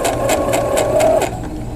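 Sewing machine running a quarter-inch quilt seam: a short, close burst of rapid rhythmic stitching, whirring steadily before slowing at the end.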